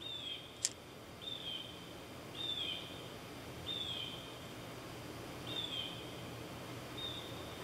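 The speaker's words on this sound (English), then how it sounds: "I don't know if you just heard that little cheep, but that's birds." Faint, brief bird cheeps played from a speaker recording repeat every second or so over a steady low hiss, with one sharp click early on.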